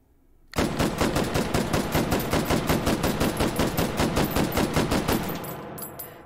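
A Galil AR rifle fitted with a muzzle brake in the H3VR game, firing semi-auto in a fast, even string of about thirty loud, close shots over five seconds, ending abruptly with a few faint clicks.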